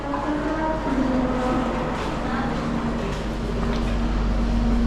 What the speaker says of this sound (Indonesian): jadi ini adalah kereta api bandara.